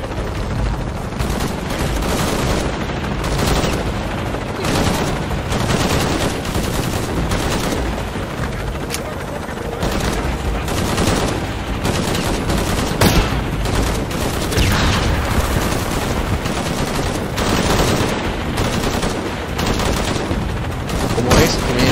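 Dense, continuous gunfire in the video game Shadow of the Tomb Raider, with rapid bursts and booming shots, a loud, sustained barrage of weapons fire throughout.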